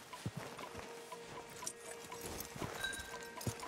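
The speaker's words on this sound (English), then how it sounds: "Marshal, you're gonna tether him up to Javier's horse." Horse hooves clip-clop in a few irregular steps through a Red Dead Redemption 2 game scene, moderately close, with low ambient background and no clear whinny.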